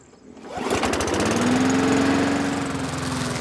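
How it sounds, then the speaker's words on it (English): Lawn mower starting up and cutting grass, its engine rising quickly to a loud, steady drone heard up close with no voices. "it's a good day to cut the grass"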